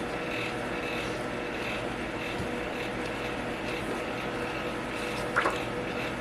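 An electric fan whirs steadily in the background of an indoor room, a constant airy drone with a faint brief rattle near the end and no speech.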